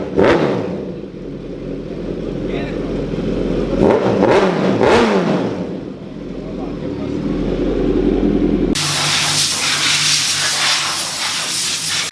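Kawasaki Z900 motorcycle fitted with a full-system aftermarket exhaust, revving in repeated blips over a steady rumbling idle, loud and close, with a sudden shift to a harsh, hissy, roaring tone near the end.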